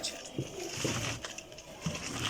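Pigeons coo softly in short low bursts at a pigeon point in Sarai Alamgir, Jhelum, with faint rustling and distant background noise.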